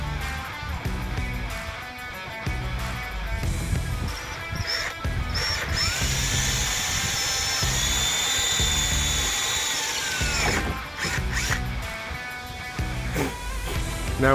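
A power drill bores holes through a roof-top tent mounting point, a high whining motor note rising and holding for several seconds amid grinding, stopping and restarting in short bursts.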